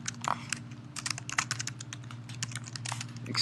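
Typing on a computer keyboard: quick, irregular clicks and taps close to the microphone, in short bursts over a faint steady hum.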